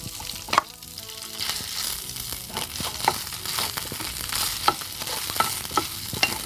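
Grated coconut fries in a pan on top of ingredients that have already browned. A constant sizzle runs underneath while a utensil scrapes and taps the pan at a loose, uneven pace, close and with no speech.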